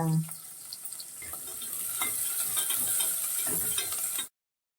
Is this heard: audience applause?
no